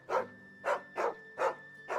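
A dog barks in Final Fantasy XVI, five evenly spaced woofs of moderate loudness sounding alone over a quiet background.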